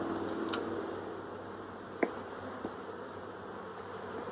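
Honey bees hum steadily in a dense, continuous buzz near a hive in Tennessee, with a sharp click and a fainter tap breaking through partway.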